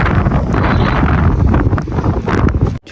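Strong gusts of wind roar across the microphone in an outdoor horse arena, steady and loud with constant rustling buffeting that cuts off abruptly near the end.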